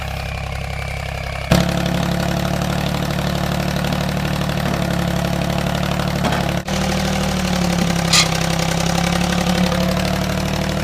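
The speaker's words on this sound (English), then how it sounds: "So now he's gonna bring the tractor over." A steady, low engine idles continuously, its rumble constant and fairly loud, with a sharp click partway through and faint mechanical rattles.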